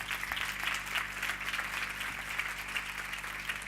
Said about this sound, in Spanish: Vamos a darle un fuerte aplauso